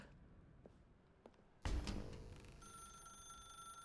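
A phone in The Stanley Parable rings out loud after a quiet stretch: a sharp electronic ring that then holds as a steady, sustained tone.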